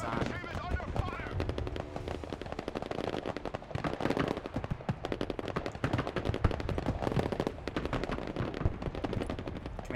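Sustained rapid machine-gun and rifle fire in the Broken Arrow war strategy game, dense rattling bursts running loud and continuous throughout, with voices speaking over the din.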